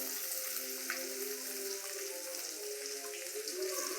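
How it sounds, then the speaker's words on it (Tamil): Ingredients sizzle steadily in a hot pan while being sautéed until red, a continuous soft frying hiss with faint stirring. "நல்லா ரெட் கலர் ஆகிற வரைக்கும் இதை வதக்கிக்கோங்க."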